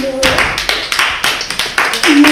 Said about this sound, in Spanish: ya iba a pedir que os habéis adelantado un buen aplauso para la anfitriona